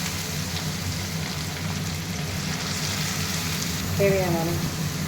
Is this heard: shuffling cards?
no